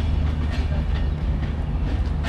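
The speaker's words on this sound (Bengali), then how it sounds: "ট্রেন যাচ্ছে" A train rolls steadily past close by, a loud continuous rumble of rail wagons with faint rhythmic clatter, no voices over it.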